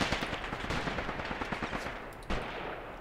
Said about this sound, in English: I think this was my light infantry gun shooting these guys.